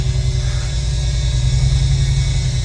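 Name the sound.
engine of the world's largest fire engine running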